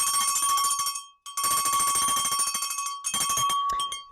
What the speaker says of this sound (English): I'm gonna ring the bell for Ultra Dad.